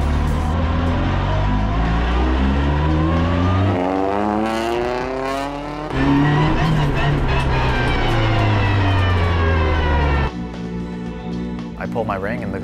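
A race car fitted with a Bosch hand control system drives back and forth along a pit lane, its engine revving up and down in rising and falling sweeps, loud and close.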